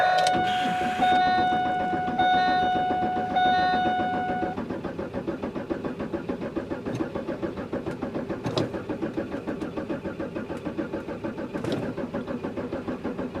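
A car engine cranking over repeatedly after starting fluid is sprayed in, a steady rapid rhythmic churning from the starter, close and loud, with a high whine at first and no talking.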